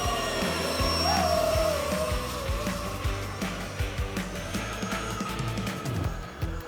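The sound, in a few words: DIY A-10 Warthog model plane flying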